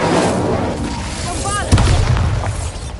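Incendio fire spell cast in Hogwarts Legacy, producing a sudden boomy burst with a whooshing, crackling tail amid ongoing game noise, with a brief magical shimmer just before the blast.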